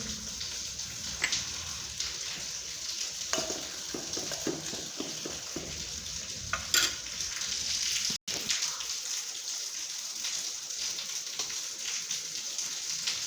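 A soft continuous sizzle of spice mix and red chili powder frying in oil with coconut, with occasional stirring taps and scrapes, fairly quiet and without talking.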